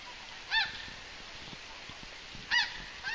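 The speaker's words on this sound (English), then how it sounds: "there goes a whole bunch of geese" Two loud honks from a large flock of geese ring out about two seconds apart over a quiet, steady outdoor hiss on a forest trail, with faint soft wing flutters in between.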